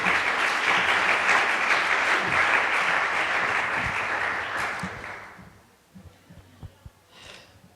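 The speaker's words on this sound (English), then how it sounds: "if you'll please give them a round of applause." Audience applause for panelists at a cybersecurity conference, a sustained round of clapping that tapers off after about five seconds, leaving a few soft thumps and a faint voice.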